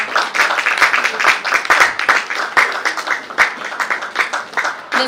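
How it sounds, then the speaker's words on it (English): Audience at an entrepreneurs' conclave session claps for the day's guests, a lively burst of fairly close individual hand claps, loud and uneven, with no talk over it. "So give a round of applause for today's guests."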